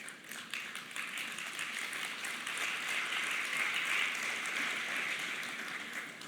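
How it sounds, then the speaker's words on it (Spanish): Restrained audience applause at a church talk, a dense, even spread of clapping that holds steady and fairly loud for several seconds without speech on top. "Ese fue como un aplauso reprimido."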